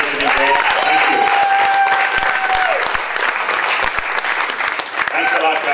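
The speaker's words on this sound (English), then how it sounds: "Let's give a round of applause" A room full of people at a beer class on cask-conditioned ales bursts into loud, sustained applause up close, with whistles and scattered voices mixed in.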